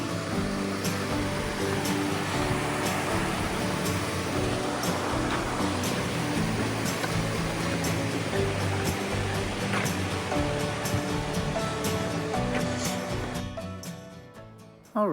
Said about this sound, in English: One of the prettiest falls I've seen so far.